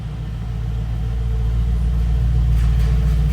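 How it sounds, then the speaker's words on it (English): A Brabus car engine idles and rumbles steadily up close while the car is being moved, a deep continuous low drone that swells slightly louder toward the end, with no voices. "I had to move the Brabus out of the way to get it through."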